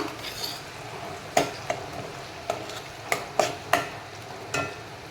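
Ground masala paste stirred into a crab curry, a spoon scraping and knocking against the pot in several sharp clinks over a soft, steady sizzle, close and clear with no talk.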